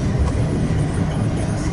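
A westbound freight train rolls past, a dense, continuous low rumble of wheels on rails, close and steady throughout.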